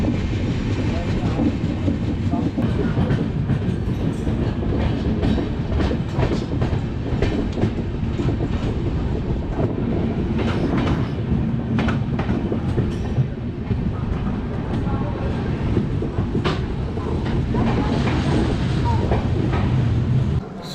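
Poorva Express train rolling steadily on rails through India, with continuous close rumble and rhythmic clickety-clack of the wheels throughout; voices are faintly heard under the noise.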